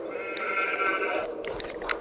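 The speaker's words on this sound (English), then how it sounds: "Check on our sheep." Sheep in Farming Simulator 22 bleat in a long, wavering call, loud and close, then a few shorter bleats and soft clatter follow, with no talking over them.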